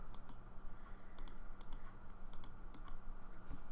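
Quick pairs of crisp clicks repeat in short bursts, close to the microphone over a faint steady hiss, like a computer mouse being clicked while working in Blender.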